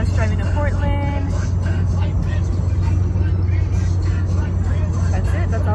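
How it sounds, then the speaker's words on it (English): Steady low road rumble from a car on a long drive to Portland, Oregon, holding an even level throughout, with voices talking over it near the start. "So enjoy this vlog of us driving to Portland."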